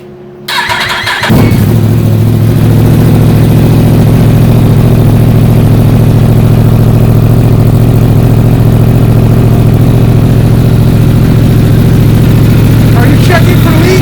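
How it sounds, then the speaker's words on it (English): A Yamaha R1M motorcycle fitted with an Akrapovic full titanium exhaust fires up after a brief crank, then settles into a loud, steady, close idle with a deep throbbing rumble. "The Akrapovic full titanium exhaust system."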